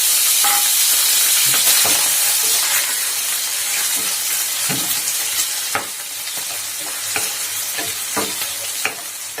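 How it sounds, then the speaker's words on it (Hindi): Potatoes and green chillies fry with cumin seeds in hot oil, making a loud, continuous close sizzle with intermittent stirring scrapes and taps, and no talking. "और ये आलू और मिर्ची को हम भून लेंगे।"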